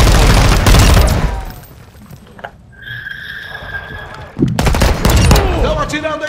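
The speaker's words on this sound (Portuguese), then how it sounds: "Estão atirando em mim!" Enemy gunfire in Warzone DMZ at the Koshei complex, loud bursts of shots at the start and again near the end, with quieter game ambience and a voice speaking between them.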